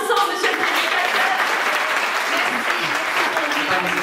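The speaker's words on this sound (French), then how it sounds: "On applaudit ensemble, monsieur le prédicateur." An audience applauds a preacher at a live French musical show, steady dense clapping filling the hall throughout with the loud, even texture of a full crowd.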